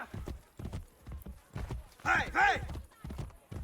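A horse in the video game Assassin's Creed Revelations trots with a steady, rhythmic clip-clop of hooves, and a pair of whinnies rises in the middle of the footfalls.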